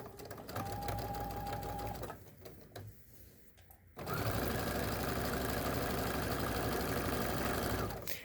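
A sewing machine fitted with a quarter-inch foot stitches a pillow appliqué seam, running steadily for about two seconds, pausing briefly, then whirring continuously and loudly through the rest of the clip.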